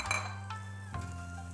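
Flat blue bowls clink together in a home kitchen, a sharp ringing knock at the start and another a moment later, each leaving a brief ceramic ring over a low steady hum.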